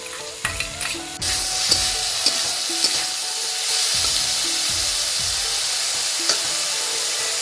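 Sliced potato, cucumber and green chili hit a hot pan with onion for egg chowmein, bursting into a loud, steady sizzle after a few clattering stirs, with spatula scrapes recurring through the frying.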